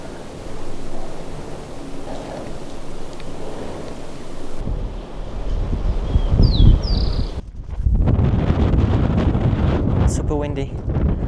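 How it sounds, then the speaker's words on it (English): Strong gusts in the Argentine Andes buffet the microphone in a low, continuous rumble that grows harsher toward the end, with occasional faint voices. "Super windy."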